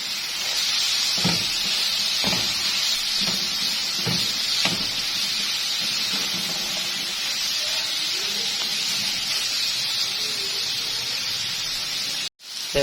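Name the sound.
vegetables and spices frying in a pan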